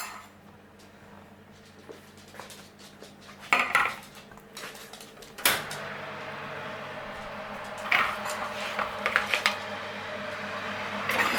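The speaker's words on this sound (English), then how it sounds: "What I'm going to do now is put them in the oven." A muffin tray going into an oven at home, heard as scattered metallic clanks and rattles of trays and shelves with quieter handling in between, no talking.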